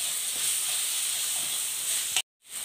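Spices with turmeric and masala sautéing in a pan for a coconut chicken curry, producing a steady close hiss and sizzle that holds evenly before cutting off abruptly near the end.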